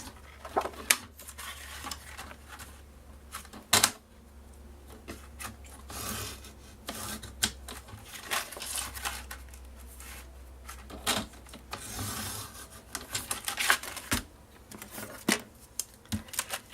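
Paper for a scrapbook file is cut by hand in a quiet room, with intermittent soft snips and rustles plus a few sharp clicks and taps in an uneven rhythm.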